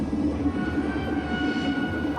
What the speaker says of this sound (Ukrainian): Чутно повітряну тривогу.